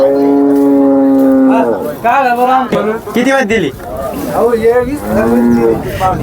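Cows at a busy cattle market in Lasur Station low loudly and nearby, one long sustained moo followed by several shorter wavering calls, while traders talk and bargain over the animals.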